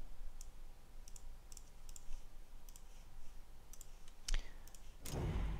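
Computer mouse clicks in a quiet room, a scattering of light, crisp single and double clicks spread out over several seconds, with a louder rustle at the end.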